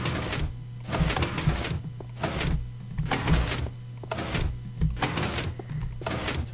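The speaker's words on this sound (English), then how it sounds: "the door will open" A door opens in Minecraft, driven by a combination-lock mechanism, with about seven evenly spaced mechanical bursts over a steady low hum, close and clear.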